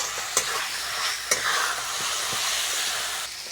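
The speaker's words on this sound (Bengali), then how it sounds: "এবার মশলাটা কষতে হবে।" Spice masala sautéed in a pan for a fish curry, a constant frying sizzle broken by a couple of sharp spatula scrapes, close and fairly quiet.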